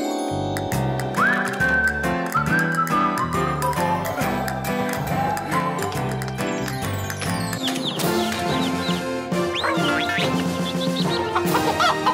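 Cartoon chickens cluck and squawk in quick, rhythmic bursts over a bouncy musical score, with higher squawks and chatter piling up near the end.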